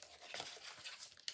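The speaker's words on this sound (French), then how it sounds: "on marque les plis" Paper being creased into folds for a small drawer box, a quiet, close run of crinkling and rustling handling sounds with light scrapes, brief and faint.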